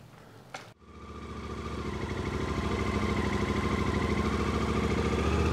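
A Yamaha T7 motorcycle engine starts after a brief crank, then settles into a steady, close, throbbing idle that grows slightly louder and stays alone with no talk.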